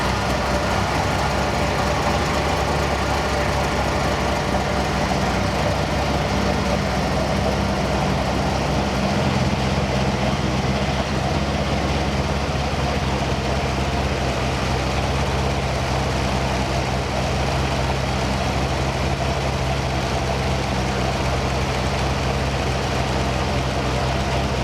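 A 1,200whp twin-turbo Corvette Z06 engine idles steadily with a loud, continuous low rumble that stays constant throughout.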